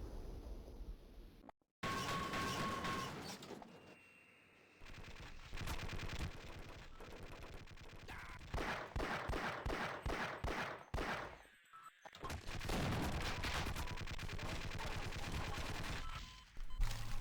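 Automated turrets in Duke Nukem 3D and Half-Life fire rapid, loud bursts of video-game gunfire, repeated volleys separated by brief gaps and near-silent pauses.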